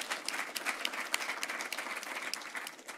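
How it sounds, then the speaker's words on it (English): An audience at a hackathon event bursts into steady applause, many hands clapping in a dense, even patter that stays fairly distant throughout. "So I want everyone to give a round of applause for all the hackers"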